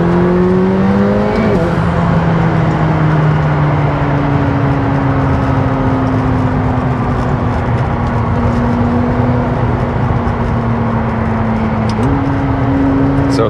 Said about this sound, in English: It takes a while to get moving, but once the boost comes on, this car moves.